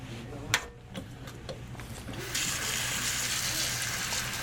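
Water sloshes and gushes steadily as soaked dent corn is rinsed, starting with a few clinks and splashes before a continuous running-water rush takes over.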